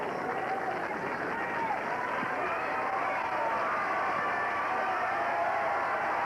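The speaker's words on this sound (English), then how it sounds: "The crowd stirs." Tennis crowd at the 1989 Boca Raton match between Chris Evert and Steffi Graf, a steady wash of murmuring and stirring from many spectators with scattered claps, continuous and moderately loud throughout.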